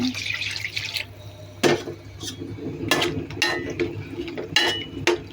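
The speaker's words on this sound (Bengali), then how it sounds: "ঝোল দিয়ে দিচ্ছি।" Thin broth is poured into an okra curry in a pot, with splashing bursts of liquid and light clinks of a utensil against the pan, heard close.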